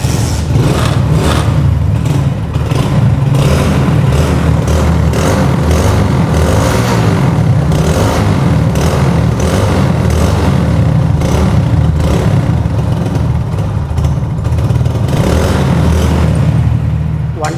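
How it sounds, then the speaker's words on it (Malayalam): A Hero Splendor motorcycle fitted with a Euro 1 silencer runs loud and close, its engine thumping at a rapid, even beat and revving throughout. "ജസ്റ്റ് ഒന്ന് സൗണ്ട് കേൾപ്പിച്ചു തരാം. Euro 1 സൈലൻസർ നമ്മൾ ചെയ്തിട്ടുള്ളതാണ്."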